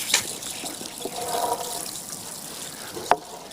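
Newly planted Rosa complicata cuttings being watered, giving a soft, fairly faint trickle of water in a quiet outdoor garden setting, with a brief sharper splash near the end.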